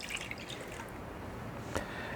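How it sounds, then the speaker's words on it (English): A cup of milk pours into a mixing bowl for a Yorkshire-pudding batter, a short quiet trickle with a soft splash near the end, close and faint. "Now I've got 1 cup of milk I'm going to pour in here."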